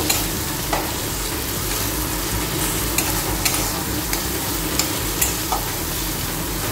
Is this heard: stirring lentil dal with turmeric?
yes